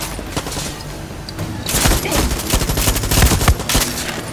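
Gunfire in the video game Far Cry 6 during the Pagan Min Control DLC, loud dense bursts of automatic fire and overlapping shots building after a quieter opening, dominating the whole stretch.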